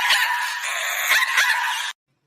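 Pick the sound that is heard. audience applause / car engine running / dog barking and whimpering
dog barking and whimpering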